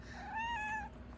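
Sleepy cat meowing after being woken, a single soft, drawn-out meow rising and falling, close by but faint over low room noise.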